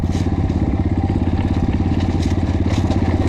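Up close, the KAYA 512 motorcycle's engine drones loudly during a test ride, a rapid regular firing beat with rough mechanical clatter on top, holding steady without any speech.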